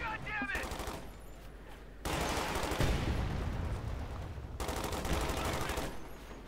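Gunfire in Company of Heroes 2 (Ardennes Assault): dense, loud bursts of rifle and machine-gun fire in a continuous fusillade, swelling midway and again near the end, with faint voices mixed in.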